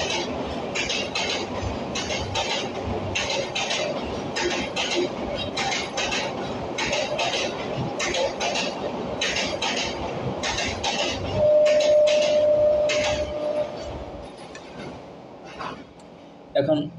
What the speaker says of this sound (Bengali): কারণ ট্রেন যাচ্ছে, ট্রেনটা যায়নি